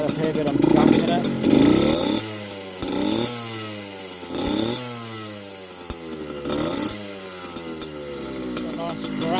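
A 1982 Yamaha YZ50 dirt bike engine, running a bit rich with a gunked-up exhaust, revs up in repeated bursts and falls back to a crackling idle, close by and loud.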